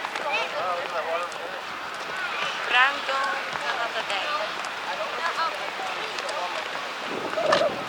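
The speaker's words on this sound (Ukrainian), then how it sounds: "Але вітер страшний, такі вітри" Broad rushing wind buffets the microphone throughout, a steady roar with gusts, while a person talks over it.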